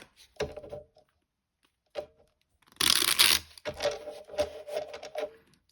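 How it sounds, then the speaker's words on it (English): Cards being shuffled by hand: a few quick riffles and taps, then a louder burst of fluttering cards followed by softer shuffling, close up. "Okay, I'll do one last shuffle here."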